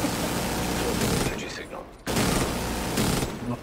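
A video game gunfire volley against a Boomer, a dense burst of rapid shots that breaks off briefly and then resumes in a second loud barrage, with faint voices in the mix.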